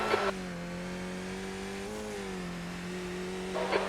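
Race car in a racing sim game, with a steady engine drone holding pitch, rising slightly as another car approaches, under continuous wind and road noise.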